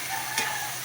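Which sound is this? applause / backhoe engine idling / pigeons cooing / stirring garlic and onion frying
stirring garlic and onion frying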